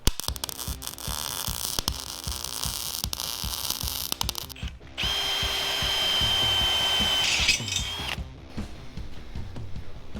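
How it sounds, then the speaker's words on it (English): Welding on a rat rod wrecker, with a steady electrical buzz and hiss running for several seconds and then cutting off, between clanks and shop noise nearby. "so we're welding it up tight"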